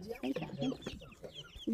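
Chickens on a farm cluck close by in quick, overlapping bursts of short, throaty calls that rise and fall without pause.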